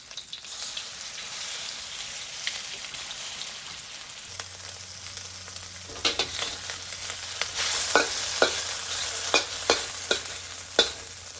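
Beef frying in batches in ripping-hot oil for chili crispy beef: a continuous hiss of sizzling that grows more crackly and spattery, with sharp pops and stirring scrapes in the second half.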